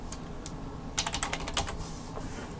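Quick keystrokes on a computer keyboard tapping out HTML heading text, a brief cluster of sharp clicks over a steady hiss of room noise, with no talking.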